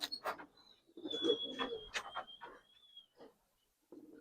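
Giribaz pigeons at a pigeon sale cooing softly in short repeated bursts, faint and close, with a thin high tone running through.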